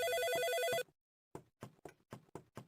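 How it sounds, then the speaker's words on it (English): A telephone in the video game Animal Crossing rings with a bright, steady electronic tone for under a second, then stops and gives way to a quick series of soft taps. "With the phone still ringing, Noah tries to leave David's house"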